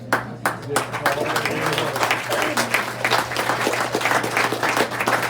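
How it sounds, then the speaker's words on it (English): Attendees at a community meeting applaud together, a dense, steady burst of many hands clapping close by for about five seconds, with a low hum underneath. "And let's applaud ourselves because we have done it."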